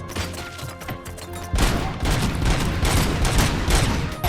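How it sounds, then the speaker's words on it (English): Sniper gunfire in RoboCop: Rogue City bursts in after a short musical stretch, a dense, rapid barrage of sharp shots and impacts running loud and close until the end. "This is kind of a fun gun to use. It's a strange"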